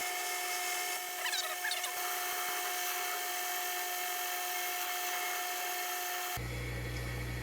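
An Atlas 618 lathe cuts gear teeth on a roughing pass taking off 50 thousandths, giving a steady mechanical whine and hum with faint scraping, before the tone shifts abruptly to a lower drone near the end.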